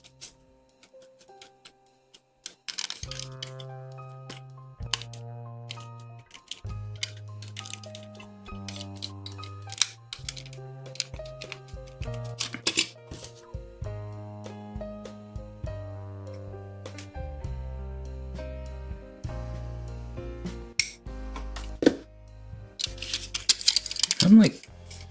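Parts being snipped off a Bandai 1/144 High Grade Gundam plastic model kit, a run of sharp, close clicks and snaps at irregular intervals over a soft musical background.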